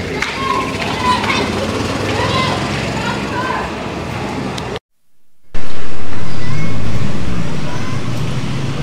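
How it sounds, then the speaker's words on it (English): Dense road traffic full of vehicles and golf carts rumbles steadily around the listener, loud and busy, with a brief dropout partway through before the noise returns. "Absolutely insane, the traffic here."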